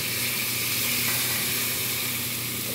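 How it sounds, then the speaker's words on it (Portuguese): Meat sizzles on a very hot churrasco grill, giving a steady, dense, close hiss of frying fat with faint bubbling, continuous and even with no voices over it. "Ó, pra vocês verem que a churrasqueira tá muito quente, ó. Tá fervendo, borbulhando."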